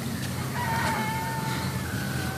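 A rooster crows once, a drawn-out, wavering call that rises and then trails off over steady background noise in a rural setting.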